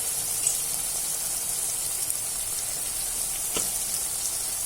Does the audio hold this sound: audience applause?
no